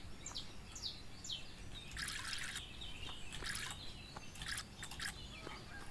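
A watering can pours water onto crops in the farming game Everdream Valley, a soft trickling stream under faint chirping birdsong, quiet and steady.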